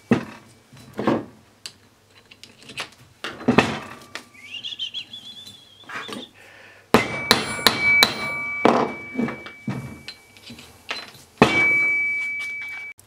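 Sharp hammer blows strike a steel pipe seated in the 8mm hole of a steel block to flatten its flange, landing as several loud metallic impacts in irregular bursts with ringing tones between them.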